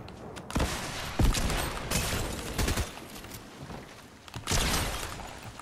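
Pump shotgun blasts in the Fortnite video game, a handful of loud separate booms spaced a second or so apart with fainter game noise between them.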